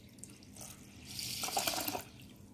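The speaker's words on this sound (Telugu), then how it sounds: "ఇలా కడిగిన తర్వాత బియ్యం మునిగేంత వరకు నీళ్లు పోసి పెట్టుకోవాలి" Water poured from a vessel over washed rice in a pot to soak it for dosa batter, a soft splashing pour that swells in the middle and then fades, with no voices.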